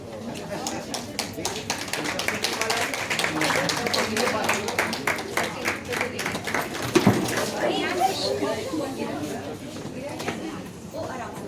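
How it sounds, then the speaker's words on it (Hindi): An audience at the 50th convention of the Nagari Lipi Parishad claps steadily in a rhythmic, sustained round of applause, with a voice speaking over it. "जोरदार तालियां बजती रहनी चाहिए।"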